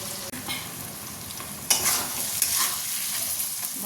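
Minced meat being stirred and sautéed in a pan, a steady sizzle broken by sharp spatula scrapes and knocks against the metal, close and clear with no talk.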